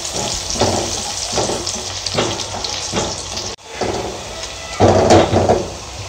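Steady crackling sizzle of garlic frying golden in a hot pan, with occasional stirring scrapes and a louder burst of spattering near the end.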